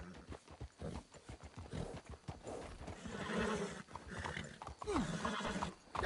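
Horses in the video game Red Dead Redemption 2 clip-clop at a brisk, steady pace close by, with a loud whinny partway through and rustling movement around them.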